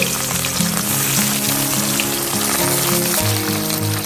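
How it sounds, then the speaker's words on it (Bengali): Bata fish sizzles loudly in hot mustard oil over high flame, a steady crackling hiss with dense popping, continuous and close, with no voices. "তেল গরম হয়ে গিয়েছে, মাছগুলো তেলে দিয়ে দিচ্ছি।"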